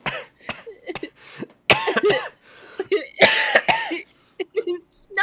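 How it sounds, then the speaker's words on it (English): Repeated coughing and throat clearing, close and loud, in irregular fits over a few seconds with short gaps between bursts. "stop coughing"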